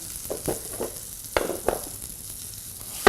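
Chicken sautéing in a pan gives a soft, steady sizzle under a handful of brief scraping and turning noises, close by and fairly quiet, with no talking.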